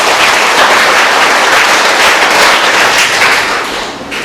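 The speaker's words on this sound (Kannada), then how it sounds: "ಮಕ್ಕಳು ಜೋರಾಗಿ ಚಪ್ಪಾಳೆ ಹಾಕೊಂಡು." Children at a school event clap loudly together, a dense, sustained roar of applause that fills the space and fades slightly toward the end, with no talking.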